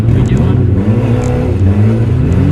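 Turbocharged all-wheel-drive Honda Civic wagon launching hard on a mountain trail, its engine revving loud and steady with strong low rumble throughout, while people talk over it.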